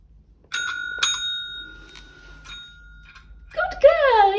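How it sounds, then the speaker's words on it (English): A dachshund puppy rings a bell to go outside for potty: two bright rings with a lingering metallic tone, a few softer taps, then a voice chimes in. "let's just ring the bell before we go out"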